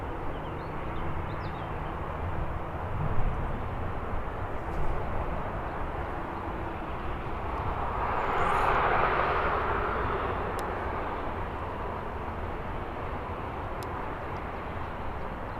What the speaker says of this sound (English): Just in time to see EasyJet2.com take off.